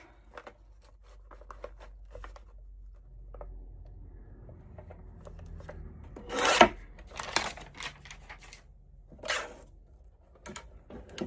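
Paper being cut by hand for a keepsake folio book page, heard as a cluster of crisp snipping and rasping strokes near the middle, close and moderately loud, with scattered soft handling rustles before and after.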